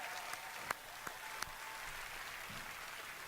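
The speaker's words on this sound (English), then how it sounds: "Could I please have another round of applause" Faint, distant audience applause at the E3 2016 Bethesda show, steady clapping with a few sharper claps standing out.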